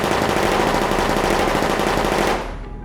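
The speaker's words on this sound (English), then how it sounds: "Stop shooting." Video game gunfire in The Darkside Detective: A Fumble in the Dark, a loud, dense machine-gun burst that holds steady for over two seconds, then cuts off abruptly.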